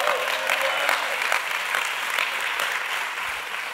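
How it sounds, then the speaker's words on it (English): A church congregation gives a sustained ovation, dense clapping filling the room evenly and steadily loud, with faint voices mixed in. "So give Jesus an ovation of praise."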